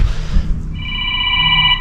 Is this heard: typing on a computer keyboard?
no